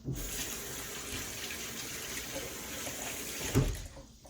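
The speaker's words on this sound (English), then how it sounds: "Then I rinse off real fast." Tap water runs steadily over a steak being rinsed in a kitchen sink, a close, even wash of running water that swells into a brief louder splash near the end.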